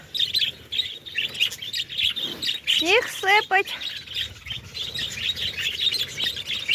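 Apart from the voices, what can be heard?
pet parrots chirping outdoors in snow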